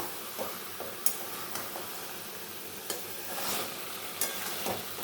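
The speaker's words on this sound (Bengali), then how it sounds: "একটু নাড়িয়ে দেবো যে খুব হালকা আছে একদম নাড়তে হবে বেশি প্রেশার দেওয়া যাবে না" Small fish frying in a pan for a Bengali chorchori, stirred lightly with a spatula, giving a steady soft sizzle with a few sharp scrapes and taps against the pan, close and fairly quiet, no voices.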